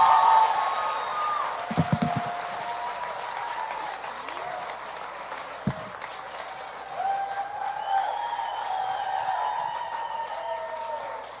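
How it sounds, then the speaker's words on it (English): A convention audience at a NerdHQ panel applauds Nathan Fillion and Adam Baldwin, with sustained, dense clapping from a large crowd, a few sharp thumps near the start and scattered whoops rising over it. "put your hands together for Nathan Fillion and Adam Baldwin"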